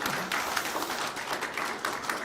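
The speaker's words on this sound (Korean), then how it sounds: "서정숙 의원님께 뜨거운 박수 한번 부탁드립니다" An audience at the inauguration ceremony of the Korean Medicine Association president applauds a lawmaker, producing dense, steady clapping that fills the whole stretch at moderate volume, without any talking.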